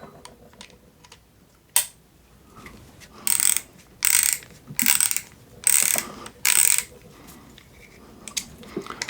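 A screwdriver with a Phillips head bit is worked back and forth, giving five rapid ratcheting bursts in a row after a single sharp click, close and crisp with nothing else around.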